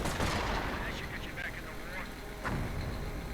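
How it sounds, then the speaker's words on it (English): Rifle gunfire rattles through a World War II strategy video game as suppressive fire, a dense, loud, continuous crackle of shots and battle noise with voices faintly mixed in. "Suppressive fire from the rifleman in an attempt to protect the snipers."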